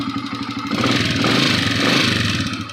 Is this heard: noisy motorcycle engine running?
yes